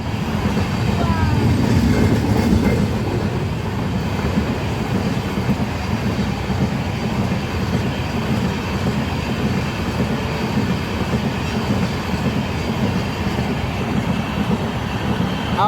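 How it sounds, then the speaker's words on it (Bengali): A long, brand-new Sairang–Kolkata special train passes close by, a loud sustained rumble with rhythmic clickety-clack of wheels over the track and occasional squeals, continuing throughout. "সাইরেন কলকাতা স্পেশাল অনেক লম্বা ট্রেন।"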